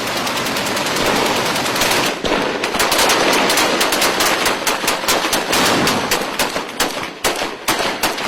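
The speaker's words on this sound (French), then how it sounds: "les hommes déchargent leurs armes n'importe où et dans toutes les directions" Soldiers firing weapons wildly in all directions during a chaotic armed confrontation, sustained loud automatic gunfire with rapid overlapping bursts and sharp individual cracks, close and continuous.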